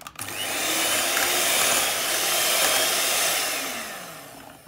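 Mashed ripe bananas being mixed into a creamed butter and milk batter with an electric mixer, a steady loud motor whine running continuously throughout with no talking.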